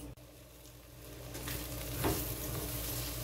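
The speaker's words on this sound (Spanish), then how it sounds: "Y lo dejamos que sofría por unos 10 minutos" Chicken seasoned with salt and bouillon frying in a pan for a Salvadoran home-cooked lunch: a steady, close sizzle with a brief stirring scrape midway, no talking.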